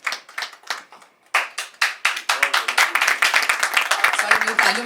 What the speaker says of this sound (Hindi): Ladies and gentlemen, may we please put hands together